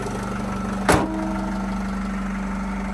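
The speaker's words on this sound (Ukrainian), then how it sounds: "чути роботу мотора, відмінно працює" A 2012 Opel Vivaro van's 2.0-litre engine idles steadily with a low, even rumble, interrupted once by a brief sharp click or knock.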